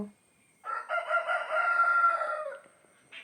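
A rooster lets out one long, loud crow nearby, followed by a short cluck, with quiet pauses around it.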